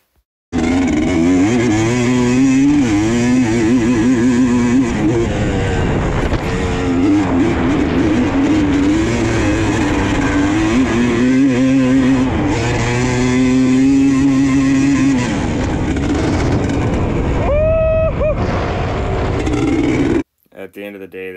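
Dirt bike ripping around a motocross track at Motoland MX, engine loud and close throughout, rising and falling in pitch as it revs and shifts, with a voice talking over it and a sudden cut-off near the end.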